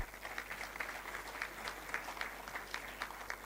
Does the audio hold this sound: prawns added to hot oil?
no